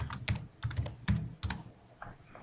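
A computer keyboard clacks as a folder name is typed in quick uneven bursts of keystrokes, close and fairly quiet, with short pauses between clusters and no voice.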